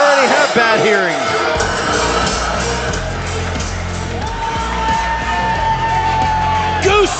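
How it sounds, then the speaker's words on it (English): A large crowd at a battle event cheers loudly, with whoops and yells rising over a dense, sustained roar of voices. "The ovation from this crowd, second to none. Absolutely deafening."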